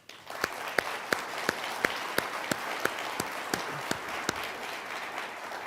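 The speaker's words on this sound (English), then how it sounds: "I just think that deserves a round of applause" Audience applause for COVID-19 front-line workers at a city State of the City address: steady clapping from a gathered crowd, with a few sharp claps standing out, holding at moderate level throughout without talk.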